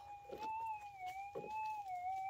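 A metal detector over a gold nugget target holds a steady electronic tone at a continuous pitch with a higher harmonic above it, wavering slightly, while faint thumps and rustles pass underneath.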